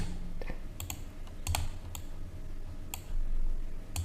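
Keys clatter and a mouse clicks on a computer while a SolidWorks drawing is made, the sharp taps coming in short irregular bursts, close and fairly quiet over a steady background hum.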